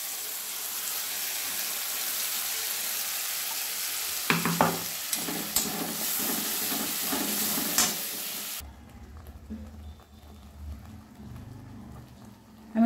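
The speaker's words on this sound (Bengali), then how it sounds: "মশলাটা আমি কষিয়ে নেব। এবারে আমি বাটা মশলাটা দিয়ে দিলাম।" Ground spice paste fries and gets stirred in a pan for a dhaba-style egg curry, a steady close sizzle broken by scraping stirs midway, then settling into a quieter, lower bubbling hiss.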